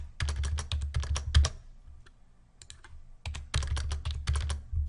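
Computer keyboard typing in two quick bursts of rapid key presses with a short pause between, close and clear with no talk.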